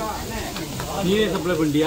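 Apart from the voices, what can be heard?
rock fish frying in a pan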